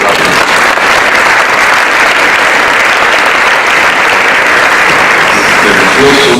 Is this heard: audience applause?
yes